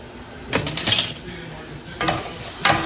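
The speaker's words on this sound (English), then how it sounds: "Stir that around and evenly make the pan even with the apples." A spoon stirs apples around a hot skillet for an apple pancake, giving a few scraping, clattering bursts against the pan over a soft sizzle, with quiet pauses between strokes.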